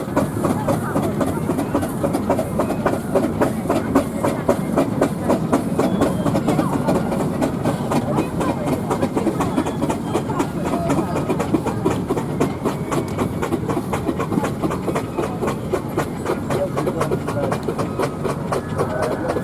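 Steam engines parade into a showground arena at a June steam rally, with a continuous rumbling, clattering mechanical rhythm and a public-address announcer talking over it.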